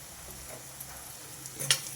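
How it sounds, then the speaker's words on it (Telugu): Onions with turmeric frying in oil already used for bitter gourd, a soft steady sizzle close by with a brief louder scrape of stirring near the end, fairly quiet overall. "నల్ల నల్లగా అయినట్టున్నాయి ఆ కాకరకాయ వేయించిన నూనె కదా ఉల్లిపాయలు వేయాలండి"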